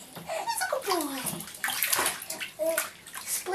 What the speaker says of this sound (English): Splishing, splashing.